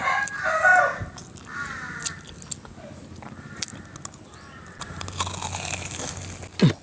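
Someone bites into a crunchy cheese corn dog, close to the mic, with several crisp crackling crunches scattered over a few seconds and a sharp, louder crunch near the end.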